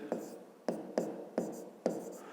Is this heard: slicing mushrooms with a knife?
no